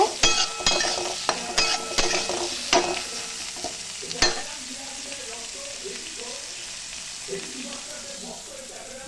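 Onions tossed into potatoes and fried in a pan, with sharp clinks of a spatula stirring against the metal over a continuous sizzle, strokes bunched at the start and then thinning out while a voice speaks over the soft frying.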